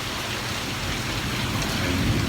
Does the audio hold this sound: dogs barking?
no